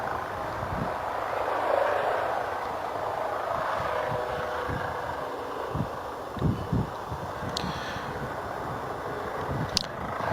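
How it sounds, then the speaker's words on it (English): A helicopter drones at a distance beneath steady wind noise near Bristol Airport, a low continuous rumble with a few faint thumps and clicks nearby. "got a helicopter as well to my left"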